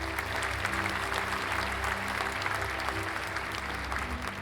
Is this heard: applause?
yes